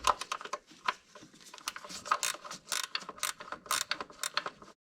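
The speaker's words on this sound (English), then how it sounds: "Then you're going to grab your 13mm and take off this bolt." A 13mm ratchet wrench clicks while a bolt is worked loose on a 2009 Mini Cooper engine, giving quick, irregular bursts of close, light metallic ratcheting.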